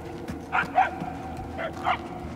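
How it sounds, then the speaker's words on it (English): A dog barking in the video game Marvel's Guardians of the Galaxy, two pairs of short yips and barks sounding at some distance over a low game ambience, the second pair slightly louder. "The barks are getting louder, at least."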